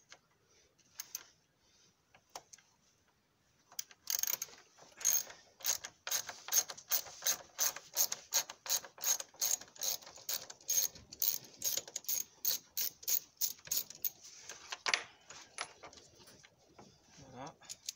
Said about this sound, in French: prendre une douille du Torx T30 et je vais défaire ces 4 vis là.